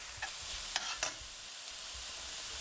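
Washed, drained rice is stirred through hot olive oil in a frying pan for Turkish chicken and rice, giving a steady soft sizzle with a few brief scraping strokes, close and alone.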